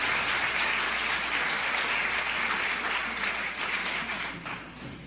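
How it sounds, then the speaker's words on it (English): Steady round of applause from an audience at a 1975 Metropolitan Opera audition broadcast, a dense wash of clapping heard from a distance that gradually fades over five seconds. "You're hearing a round of applause for Mrs. Alan Oliphant, regional director"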